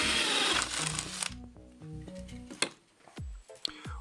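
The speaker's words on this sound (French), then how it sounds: "On prend les marques pour les gaines électriques pour percer un trou et permettre leur passage" Power drill boring a hole through a ceiling joist for electrical conduit, a loud whirring burst up front, then clattering and knocking sounds as the drill stops, close by.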